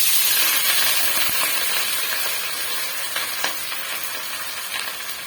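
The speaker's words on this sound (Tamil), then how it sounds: "வெங்காயம் நல்லா வதங்கி வரட்டும்" Sliced medium onions and curry leaves sauté in a hot pan, a loud continuous sizzle and crackle with faint scraping from stirring, no talking.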